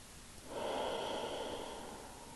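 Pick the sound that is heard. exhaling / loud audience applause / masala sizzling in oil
exhaling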